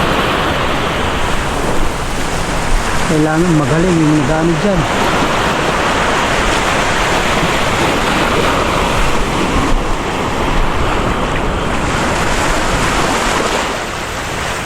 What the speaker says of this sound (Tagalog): Malaking alon dyan.